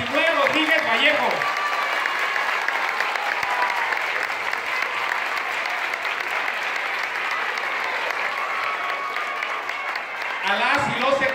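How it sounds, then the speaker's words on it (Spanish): Loud, sustained crowd applause honours the state governor at a public event in Pénjamo, Guanajuato, filling nearly the whole stretch, with a voice briefly heard at the start and again at the end. "les pido un fuerte aplauso para nuestro gobernador Diego Sinué Rodríguez Vallejo"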